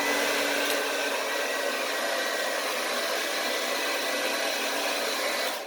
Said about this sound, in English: Okay, I'm going to turn the dryer on.